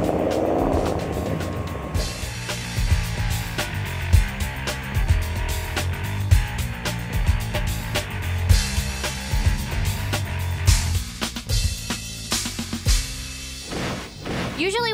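Ford street rod at a Kansas car show, its engine idling with a deep, lumpy low rumble, then revving in sharp rising bursts near the end, close and loud.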